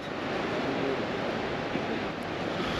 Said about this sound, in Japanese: この川の流れる音が非常に心地いいです。